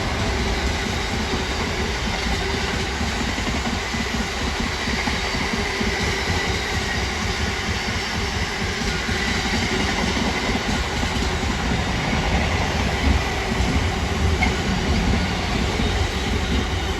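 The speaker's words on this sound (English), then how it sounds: "Intermodal heading to Felixstowe North." An intermodal freight train heading for Felixstowe North rumbles past nearby, its steady heavy roar of wagons and wheels continuing without a break, no voices.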